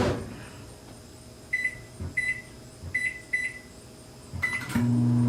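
A microwave oven set to cook dry beans in a Tupperware microwave pressure cooker: several short keypad beeps in a quiet room, then the steady low hum of the oven starting up.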